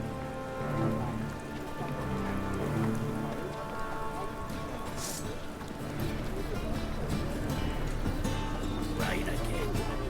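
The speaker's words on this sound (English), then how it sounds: "Rain again." Steady rain pours across a village in The Witcher 3, a dense, continuous patter of drops on surfaces, with game music and character voices speaking over it.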